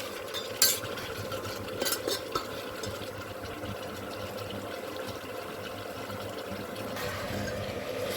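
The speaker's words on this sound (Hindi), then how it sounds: "इसको 5 मिनट तक हम भूनेंगे, जब तक इसकी स्मेल ना चली जाए।" Ginger garlic paste being stirred and fried in a pan for mutton korma, a soft continuous sizzle with occasional scraping clinks of a spoon, fairly quiet and steady throughout.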